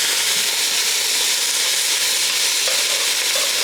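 Vegetables fry in rendered bacon fat with small bits of bacon still in the pan for Lowcountry Hoppin' John, giving a loud, steady, close sizzle that holds unbroken throughout with no talking.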